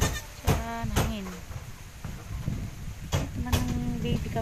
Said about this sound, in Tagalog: Ito naman ng baby kambing.